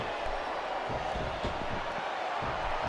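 Virtual arena crowd from the SmackDown vs Raw 2007 wrestling game during a John Cena versus The Great Khali match, a steady dense roar of cheering with faint thuds, held at a constant level throughout.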